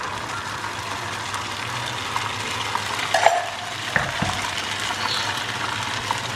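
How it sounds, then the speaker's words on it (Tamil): Ghevar batter fries in hot oil with a steady close sizzle and bubbling. A few brief stirring or utensil sounds break in near the middle. "ஸோ இப்படியே ஊற்றி நம்ம ஃப்ரை பண்ண போகிறோம்"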